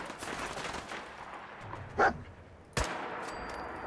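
Rifle gunfire in the video game Fallout 4, two separate shots over a steady ambient game background, the second a sharp loud report followed by a raised noisy wash.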